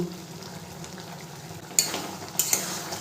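Ground panch phoron spice mix and two dried red chillies are stirred into a tomato chutney frying in a pan, with a soft steady sizzle broken by a few sharp scrapes of a spoon.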